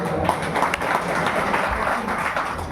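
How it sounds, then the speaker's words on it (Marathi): An audience claps for a bhajan singer (buva) at a devotional abhang performance, a steady, dense wash of applause lasting the whole moment with no pauses. "एकदा बुवासाठी टाळ्या वाजवा."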